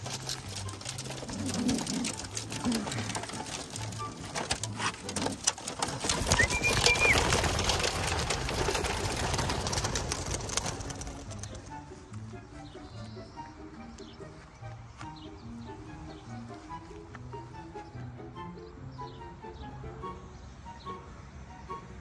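Racing pigeons released on a 20 km training toss give a dense burst of flapping wings over a steady mechanical whir, fading after about ten seconds into quieter repeated low cooing sounds.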